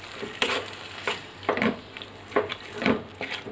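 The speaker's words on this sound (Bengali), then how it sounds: "শাকগুলো আমি নেড়ে সেড়ে একবারে শুকনো শুকনো করে রান্না করে নিব" Greens being stir-fried in a pan, a soft sizzle punctuated by rhythmic scraping strokes of a spatula about every half second, close and moderately loud, with no talking.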